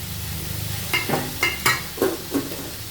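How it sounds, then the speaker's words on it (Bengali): Rice being fried in a pan for Bengali paneer pulao, stirred with a spatula in several short scraping strokes over a soft sizzle, close up and with no talking. "খুব বেশি তো ভাজবো না অল্পই ভেজেছি"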